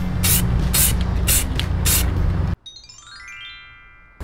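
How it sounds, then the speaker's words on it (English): An aerosol spray can coats an AirPods case in a new color: four loud, close bursts of hissing spray, then quiet tinkly chimes. "we're gonna start by spray painting it a new color"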